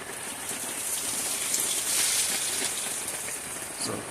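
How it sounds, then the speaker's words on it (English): Rainwater running off a tent makes a continuous hissing patter, steady and close, with a slightly heavier swell in the middle and no voices. "What you're hearing is the water running off of my tent."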